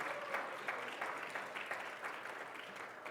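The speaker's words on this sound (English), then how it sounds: "Yes, and our applause" A congregation at a Sunday gathering claps together, a fairly faint but steady patter of many hands with small rhythmic swells, no voices over it.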